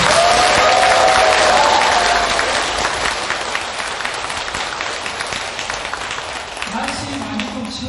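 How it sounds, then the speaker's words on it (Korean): An audience claps together at a Buddhist temple dharma assembly, a dense, loud burst of applause that tapers off gradually, with a voice speaking over the end. "박수 부탁드립니다."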